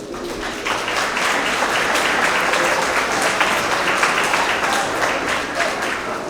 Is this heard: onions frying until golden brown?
no